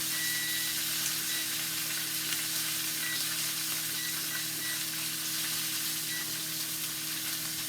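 Steak searing in a cast iron pan after being flipped, giving a steady, close, even sizzle and crackle that holds at constant loudness with no talking.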